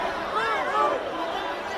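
Crowd of protesters at Jantar Mantar, Delhi, a steady babble of many voices murmuring and calling out over a dense, continuous background hubbub.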